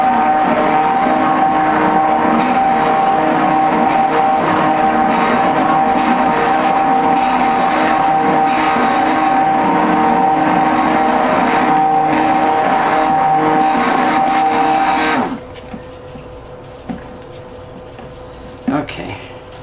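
Electric stick blender whipping a eucalyptus spearmint body butter cream runs as a steady, loud motor whine for about fifteen seconds, then cuts off abruptly, leaving quiet room noise with a few faint clunks.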